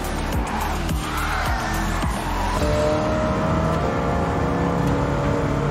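Muscle car engines roar under steady revving while tires squeal and skid during a Gran Turismo 7 race, with a Dodge Super Bee among the field; the engine drone is loud and continuous, with gear shifts and tire noise near throughout.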